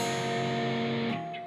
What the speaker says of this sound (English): Then we're going to play our bottom 3 strings open in an upward motion.